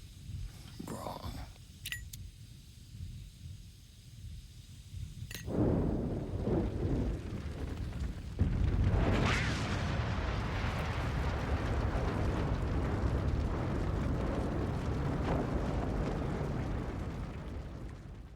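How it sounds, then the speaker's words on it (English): A car leaking gas explodes in a TV episode: a sharp blast bursts out after a quieter stretch, followed by a second surge into a loud, sustained roar that slowly fades, with indistinct voices beneath. "Of course, the car explodes."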